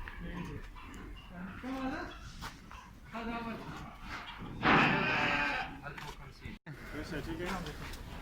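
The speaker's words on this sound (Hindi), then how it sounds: "अच्छा ये स्पेन के बकरे हैं" Spanish goats at a goat market bleat and cry amid surrounding chatter, with one loud, harsh bleat standing out near the middle over a backdrop of nearby voices and animal noises.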